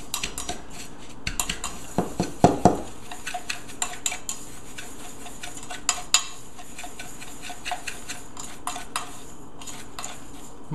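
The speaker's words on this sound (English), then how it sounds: "Stir this all up." A salmon rub of brown sugar and Mrs. Dash stirred in a bowl, with scattered light clinks and taps of a utensil against the dish, a short louder flurry of scraping early on, then sparse clicks over a quiet background.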